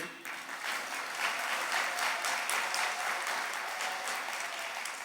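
Faint, even applause from a Catholic congregation clapping with raised hands during a sermon, a steady patter that swells slightly and holds for several seconds.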